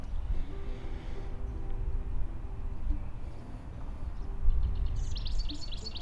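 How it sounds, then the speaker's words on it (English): Bright chirping birdsong outdoors, with a short twittering burst near the end over a low rumbling background. "Birds everywhere, as you can hear."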